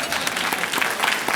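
Banquet audience breaks into loud, dense applause for an honored guest, continuous clapping close and full for a brief moment.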